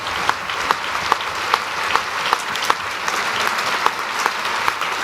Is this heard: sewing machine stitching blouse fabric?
no